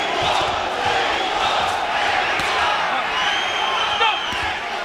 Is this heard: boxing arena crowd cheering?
yes